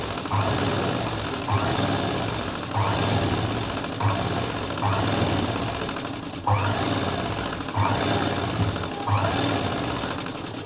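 A sewing machine stitches piping onto a blouse in short, rhythmic whirring runs that repeat about once a second, close and steady, with small mechanical clicks between bursts.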